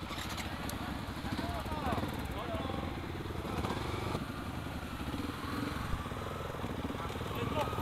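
A motorcycle engine idles steadily at a nighttime ride gathering, a continuous mid-pitched chug with light mechanical clatter, close by and mixed with people talking nearby.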